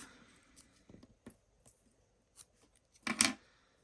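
Scissors snip crochet yarn with a few faint, quiet clicks, followed by one louder, sharper cut near the end.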